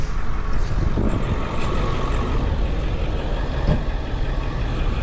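An older Ford F-350 with a 7.3 diesel idles and rumbles steadily nearby in the dark, a continuous low, throaty engine drone with slight fluctuations throughout.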